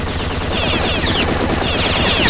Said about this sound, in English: I can't do that, so I'm just shooting him.